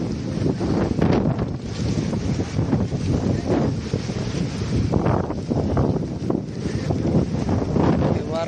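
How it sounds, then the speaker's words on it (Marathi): Strong wind roars and buffets steadily throughout, rumbling loudly with gusty surges and no pauses. "खूप जोराचा वारा चालू आहे"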